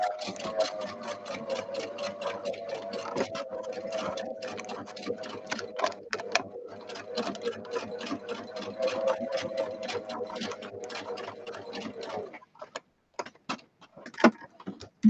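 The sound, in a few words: sewing machine stitching lace book cover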